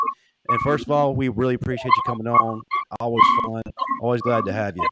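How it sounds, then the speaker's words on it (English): A dog barks and yips in the background, faint and intermittent under steady conversation between men on a call. "That's my dog in the background."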